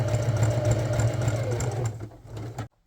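A sewing machine stitching a straight edge along a fraying hockey jersey crest runs in a close, steady mechanical whir, then slows and stops abruptly near the end.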